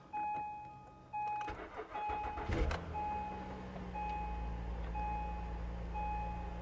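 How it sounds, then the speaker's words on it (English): A Kia Stinger car engine cranks and catches, settling into a steady idle, heard fairly close after some soft clicks, with a faint repeating electronic chime running through. "Engine sounds good."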